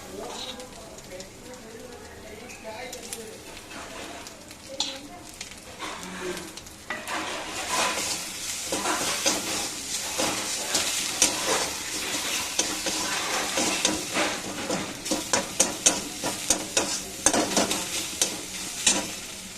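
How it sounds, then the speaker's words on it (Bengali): Soybeans are stirred and fried in a pan, building to a steady sizzle with rhythmic scraping from a spatula that grows busier and louder midway, and a voice talks faintly at times. "নেড়ে নেবো, সোয়াবিনগুলো দিচ্ছি।"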